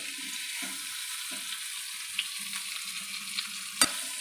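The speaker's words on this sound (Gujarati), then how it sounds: "અને મરચાં નાખ્યા, કેરીની કટકી નાખી અને એને હલાવતા રહેવાનું છે થોડી વાર માટે" Ivy gourd with chilies and mango pieces sizzles steadily in a pan while being stirred, with soft rhythmic scraping strokes and a sharp clink near the end.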